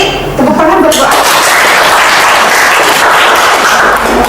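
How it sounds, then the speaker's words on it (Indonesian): A crowd claps for someone speaker at a school teachers' training event on positive discipline, a loud, dense, continuous burst of applause that starts abruptly and holds steady throughout. "tepuk tangan buat Bu Apri"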